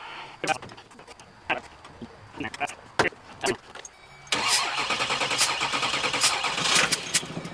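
A vehicle engine, in a Jeep Wrangler being fitted with a 6.6 Duramax, cranks with several short bursts and then catches briefly into a louder rumble before cutting out, close by, with some background voices.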